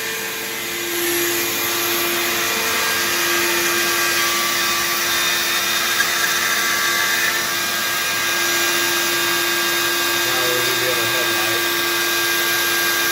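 CNC router cutting out a 1957 Ford F100 panel, a steady loud machine whine with a constant tone running unbroken throughout, close up, with faint voices underneath.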